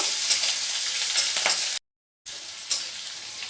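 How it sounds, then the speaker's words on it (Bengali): Potatoes and beans fry in hot oil for Bengali-style sabudana khichuri, giving a steady close sizzle with stirring scrapes, broken by a short silent gap before the frying resumes. "এবার আমি আলু আর বিনসটা দিয়ে দেব। একটু ভেজে নেব।"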